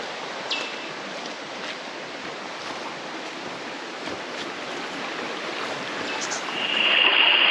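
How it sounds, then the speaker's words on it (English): Steady rushing of creek water at a bush walking-track crossing on the Erskine Falls loop, a continuous broadband flow that holds evenly and swells slightly louder near the end, with no talking. "There's another creek crossing."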